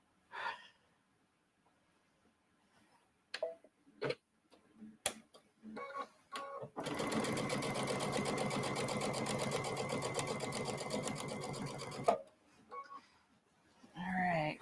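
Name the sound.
sewing machine stitching binding on a quilt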